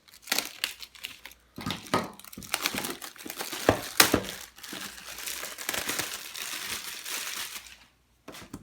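A knife cuts through the tape on a GoPro Hero 8 box with loud, close crinkling, crushing and tearing bursts of cardboard and plastic. The bursts come in irregular clusters with short pauses and no talk.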